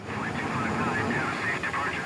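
KC-135 aircraft engines start up and roar as a steady, broad, loud rumble with a higher whine on top, continuing without a break over the whole short stretch.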